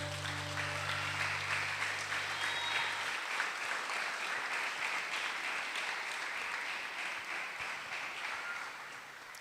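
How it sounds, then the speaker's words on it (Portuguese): A church congregation claps hands in praise, a dense, loud, sustained wash of applause that starts over fading music and holds steady before easing slightly toward the end. "Louva Ele com palmas"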